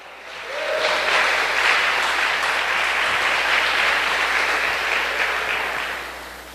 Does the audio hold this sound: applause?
yes